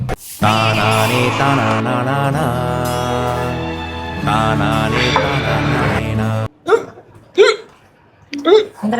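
A person hiccups three times in quick, sharp bursts after a stretch of loud music with singing cuts off, each hiccup a short, close, voiced catch.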